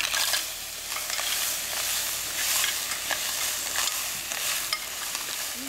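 Minced celery and clams stirred in a hot pot for clam chowder, giving a steady, close, bright sizzle with spoon scrapes and stirring knocks throughout and no talking.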